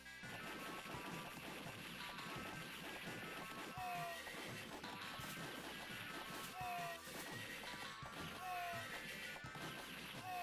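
Horses whinny in short, sliding cries during the horse riding stage of the Sunset Riders arcade game, heard under busy music and clattering effects.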